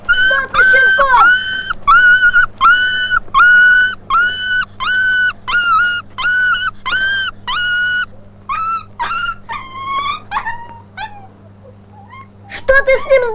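A puppy whimpering after its ears were cut, in a Turkmen feature film: about a dozen loud, close, high-pitched whining cries in a steady rhythm, tapering into shorter, weaker whimpers before a final sharp cry.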